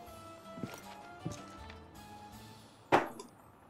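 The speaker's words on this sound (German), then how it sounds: "Ach, ich höre schon wieder Karren rumlaufen." Sparse hoof clops of horse-drawn carts in the video game Life is Feudal ring out a few times at an unhurried pace, with a sharper, louder knock near the end over faint ambient noise.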